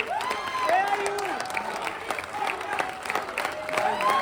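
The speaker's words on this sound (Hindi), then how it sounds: "सुमित भैया के लिए एक बार जोरदार तालियां हो जाए" An audience applauds and cheers for a medal-winning theatre artist at a Bihar Diwas university event, lively clapping with crowd voices and whoops mixed in, steady throughout.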